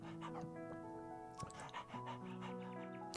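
In the horror game Tiny Bunny, a dog whimpers, pants and gives high yips, repeated in short bursts over soft, sustained background music.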